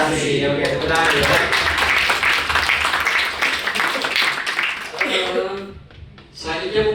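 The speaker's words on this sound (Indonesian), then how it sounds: "Oke, tepuk tangan ya." A talk-show audience claps, a dense burst of applause that swells and holds for several seconds before thinning out, with a voice speaking over it near the end.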